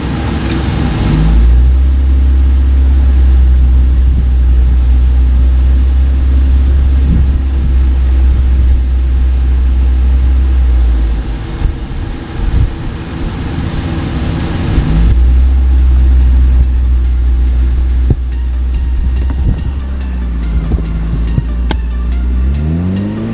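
A car engine hums loudly while the car drives around the block in snow, steady droning through low gears with a pause midway, then picks up again with light revving near the end.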